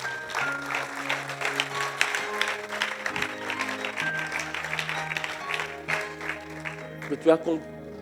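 Church congregation applauding the Lord, a steady wash of clapping over sustained organ or keyboard chords, with a voice speaking over it.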